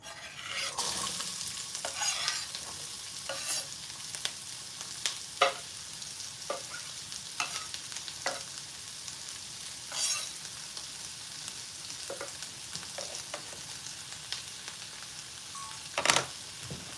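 Chopped onions frying in a pan for Egyptian kofta, a soft continuous sizzle broken by frequent close scraping and clinking stirs at irregular intervals, with no voices.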